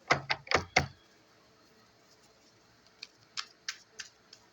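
Playing cards being shuffled indoors: a loud burst of quick riffling slaps at the start, then a few softer, scattered flicks and taps after a pause, with no talking.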